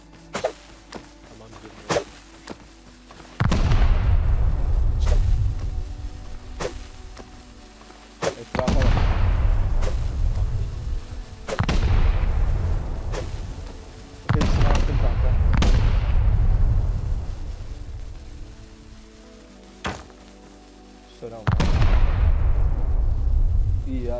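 Repeated heavy booming explosions during a raid in the video game Rust, each ending in a long rumbling decay, with sharp cracks and pops between them.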